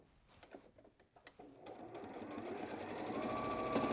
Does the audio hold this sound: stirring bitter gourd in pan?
no